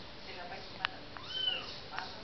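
A curious black kitten in Athens gives a short, faint meow rising and falling, with brief clicks and soft background noise around it, quiet overall.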